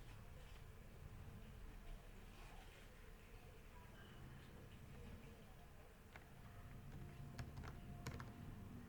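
Soft keystrokes on a computer keyboard tick at an irregular pace, faint and distant against low room noise, growing a little more distinct toward the end.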